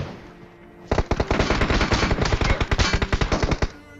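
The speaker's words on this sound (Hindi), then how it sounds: "पता नहीं कहाँ से फायर आया" Automatic gunfire in PUBG Mobile rattles out in loud, rapid bursts that start after a quiet moment and run for about three seconds.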